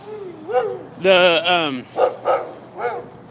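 Puppies in a car bark and yip in a few short, close bursts, with people talking around them.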